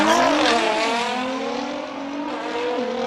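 A Nissan R35 Skyline with a twin-turbo V6 and all-wheel drive climbs a hill during a race event in Cape Town, its engine loud and rising with upshifts and pitch changes as it accelerates past and away.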